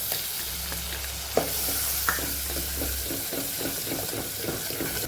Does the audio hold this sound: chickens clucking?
no